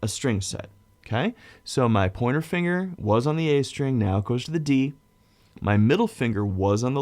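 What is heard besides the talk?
No everyday noises stand out.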